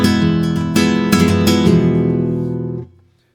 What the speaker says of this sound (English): Let's see another variant on the flamenco rumba pattern.